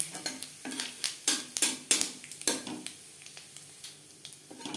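Cumin, dry chillies and bay leaf fry in mustard oil in a pan, with a series of quick spoon scrapes and stirring strokes over a soft, close sizzle that grows sparser toward the end.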